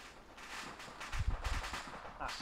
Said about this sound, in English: It's been a lot of gunfire.